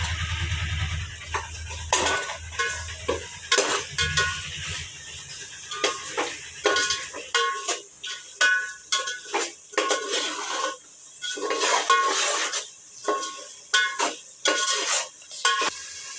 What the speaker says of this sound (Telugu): ఇప్పుడైతే అల్లం వెల్లుల్లి పేస్ట్ వేసేస్తున్నా